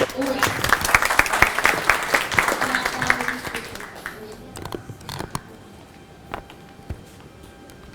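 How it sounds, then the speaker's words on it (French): Audience applause at a talk with the CEO of Salam T, a Senegalese diaspora business, as dense clapping fills the first four seconds then thins to scattered claps, with voices murmuring underneath. "On peut l'applaudir hein, quand même."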